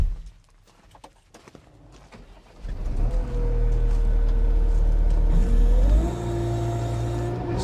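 A 2022 New Holland C332 track loader's diesel engine cranks and starts after some faint clatter. It settles into a loud, steady idle, then the revs rise and hold at a higher pitch.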